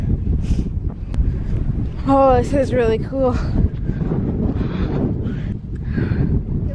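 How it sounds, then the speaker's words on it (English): Strong wind buffets the microphone on an Appalachian Trail mountaintop in continuous low rumbling gusts while a person speaks briefly over it. "It's so windy up here."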